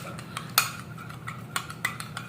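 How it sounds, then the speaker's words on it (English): Four skincare ingredients are mixed in a bowl with a utensil, giving soft scraping and several light clinks against the bowl's side, quiet and close. "Make sure you mix very well"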